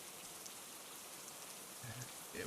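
Steady rain falls through a video game scene, a continuous even hiss at moderate level that carries alone with no voices, a couple of faint brief tones surfacing near the end.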